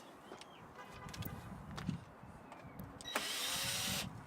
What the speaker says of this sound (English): You unscrew them, and then using the panel tool, you can take them out